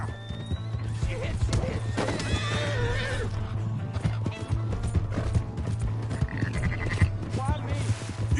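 A horse neighs and whinnies amid clip-clopping hooves in Red Dead Redemption 2, with loud game sounds and voices talking over the repeated calls.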